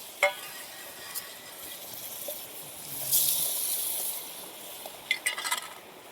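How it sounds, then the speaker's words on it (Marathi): Crabs are stirred into a spice masala in a pan: quiet scraping and stirring with a brief soft sizzle in the middle and a few sharp clinks, all faint and without talk. "ते आपल्याला मसाल्यामध्ये मस्त मिक्स करून घ्यायचे"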